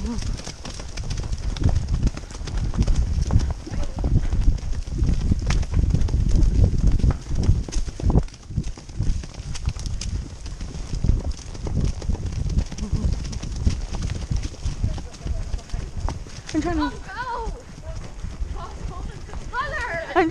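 Horse hooves clip-clopping on a ride over hilly ground, a continuous close rhythmic thudding with riders talking over it and birds chirping near the end.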